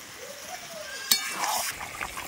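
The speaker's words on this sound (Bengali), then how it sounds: "এবার পরিমাণ মতো জল দিয়ে দেব গ্রেভির জন্য।" Water poured into hot chicken curry gravy for biryani, producing a brief burst of sizzling and bubbling with a small splash, fairly quiet and close.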